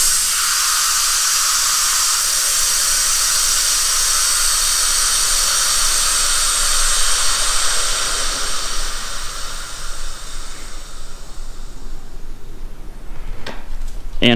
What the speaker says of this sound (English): make sure that you release the pressure with the valve here